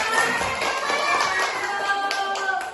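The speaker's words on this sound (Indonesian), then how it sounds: "Tepuk tangan." A classroom group claps briefly, a fairly close, steady patter of many hands lasting a few seconds with faint voices underneath.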